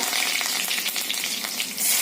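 Cumin seeds and curry leaves sizzle hard in hot oil in a wok, a loud, dense, steady crackle close up with a brief surge near the end, no voices.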